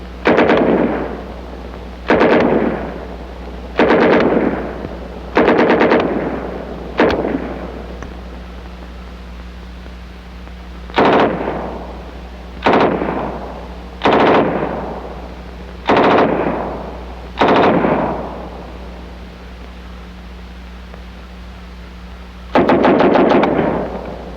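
Bursts of World War II machine gun fire from a US training film come one after another, each a short rapid volley with a pause between, loud and close over a steady low hum.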